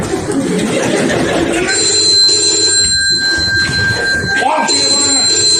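A telephone bell rings in a steady electronic trill that runs through most of the stretch, with people talking underneath it.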